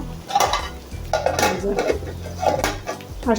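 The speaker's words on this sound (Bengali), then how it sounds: "এখন আমি এটাকে আবার ডাকনা দিয়ে দিব" Several close metallic clanks and scrapes from a pot lid being set on a pot of mutton curry with potatoes, coming in quick irregular bursts.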